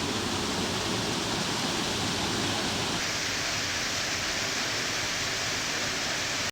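A loud, steady broadband roar of falling water, constant throughout with no pauses, like standing close to the large Kamianka waterfall in the Skole Beskydy National Park, Carpathians.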